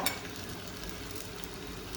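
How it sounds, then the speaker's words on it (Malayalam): Tamarind water seasoned with salt and turmeric boils in a pot for Onam inji puli, making a steady, close bubbling hiss that holds even and unbroken throughout. "ഇനി അതിൽ ഉപ്പും മഞ്ഞൾപ്പൊടി ഇട്ടിട്ട് നല്ലോണം ഒന്ന് തിളച്ചോട്ടെ"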